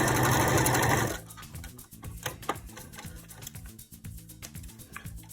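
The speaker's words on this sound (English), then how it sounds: "then I'm going to sew right through my elastic" A sewing machine stitches forward and backward through elastic on a three-layer fabric face mask, a loud continuous run at first that gives way to quieter, irregular ticking and clicking of the mechanism up close.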